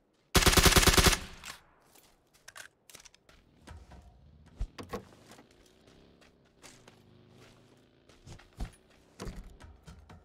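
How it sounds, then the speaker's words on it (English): A suppressed SCAR rifle in PUBG fires a rapid, loud burst right at the start, followed by scattered sharp clicks and handling knocks with a low mechanical hum underneath. "See what the suppressor's like in the scar."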